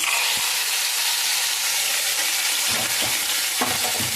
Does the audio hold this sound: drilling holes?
no